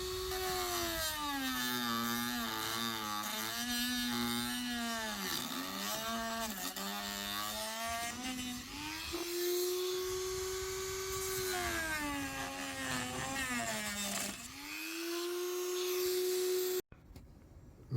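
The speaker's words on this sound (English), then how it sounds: "all around the headlight. So Dremel all around it." A Dremel rotary tool cuts through the plastic around a Mazda CX7 headlight with a loud, close, high-pitched whine whose pitch dips and rises as it bites into the housing, running almost continuously before stopping abruptly near the end.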